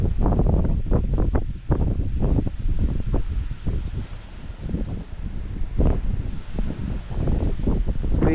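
Strong typhoon wind blowing through a crop field, heavy gusty rumbling buffeting the microphone with rustling leaves, loud and continuous.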